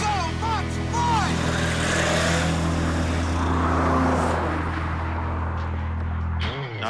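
A car drives backwards at about 54 mph during a Hollywood stunt test run, its steady engine roar loud and sustained throughout before cutting off abruptly at the end.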